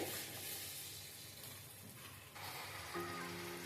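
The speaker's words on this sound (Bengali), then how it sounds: "লঙ্কার গুঁড়ো দিয়ে আমি এগুলো এবার নাড়তে থাকবো মশলার সাথে" Cumin and chili powder are stirred with spices in a pan for chicken bharta, giving a faint, continuous sizzle and hiss with soft stirring, quiet and without talk.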